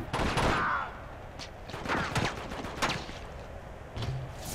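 Gunfire in the video game Uncharted 2 during a siege: a rapid string of sharp shots and bursts at moderate distance, fairly faint overall with scattered cracks and no talking.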